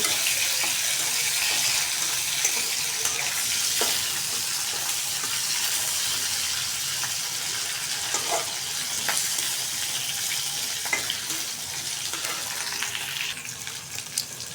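Garlic and onions frying together in hot oil in a pan, a dense, even sizzle that holds steady throughout, with occasional faint clicks of a spoon, close up and free of talk.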